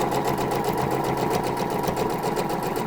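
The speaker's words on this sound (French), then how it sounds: "je vais terminer ici la couture, donc au niveau de la fente" Sewing machine topstitching the slit on a pair of trousers, a loud, steady, rapid stitching rhythm running throughout with no pauses.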